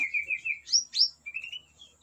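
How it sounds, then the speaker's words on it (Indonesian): A white-rumped shama sings a short, clear phrase of whistled notes and quick upward sweeps, fairly close, in an otherwise quiet setting. "Nah ini murai yang kita mau panen ya,"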